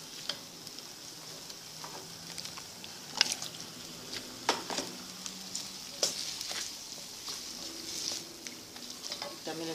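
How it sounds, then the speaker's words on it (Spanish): Chopped pineapple and tomato cook in a pan for a seafood-stuffed pineapple filling, giving a quiet steady sizzle with scattered soft clicks and stirring scrapes throughout, no voices. "agregamos la piña picada también que se cocine"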